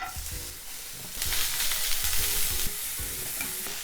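Onion frying lightly in a pan with one to two teaspoons of oil, steady close sizzle with repeated scraping stirs, growing louder partway through, no voices.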